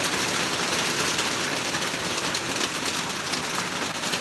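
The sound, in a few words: rain falling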